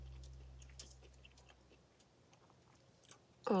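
Close, quiet chewing of a crunchy camp meal with cheese, bacon, chicken and artichoke, eaten outdoors on a solo winter camping trip at a lake, with soft irregular bites and squishes and a louder burst at the very end.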